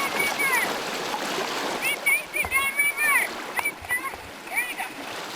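People in life vests swim and splash in a pool during water rescue training, with soft sloshing and splashes under several overlapping voices calling out.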